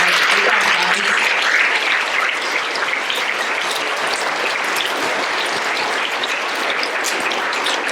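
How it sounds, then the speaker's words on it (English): A school awards audience claps for students called up by row, a steady wash of many hands clapping that stays fairly loud and even across the whole stretch. "let's go ahead and clap for row 1"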